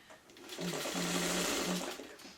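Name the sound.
sewing machine stitching quilt block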